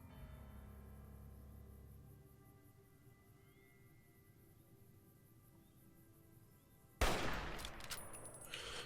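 A burst of rapid gunfire in Fallout: New Vegas erupts abruptly near the end after a long stretch of quiet game ambience, loud and dense compared with the faint hum before it.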